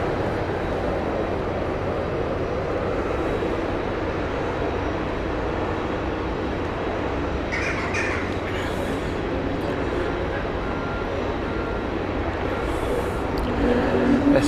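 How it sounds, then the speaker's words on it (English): An Air Baltic airliner arrives at Hamburg Airport as a steady, fairly faint broadband roar from a distance, holding even throughout and swelling slightly near the end. "Another Air Baltic coming in."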